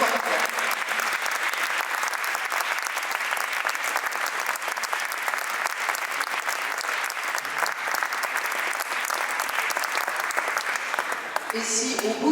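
An audience applauds at the closing event of a cultural programme, the clapping dense and steady throughout, with a few voices mixed into the crowd.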